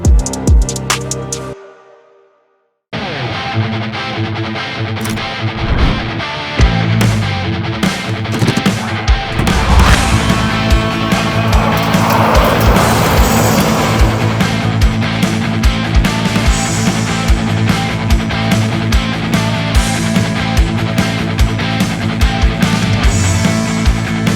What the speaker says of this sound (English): it was time to take this truck out for a drive and film this thing in action